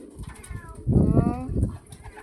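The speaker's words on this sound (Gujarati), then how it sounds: "જો આ આવ્યું આપણા કબૂતર" Fancy pigeons coo in a rooftop loft, with low throaty calls rising in the middle and people talking close by.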